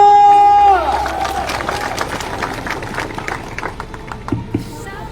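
A crowd at a street protest in Papua supporting Lukas Enembe bursts into scattered clapping and cheering after a sharp opening whistle-like tone, with loud, mixed crowd noise and voices throughout.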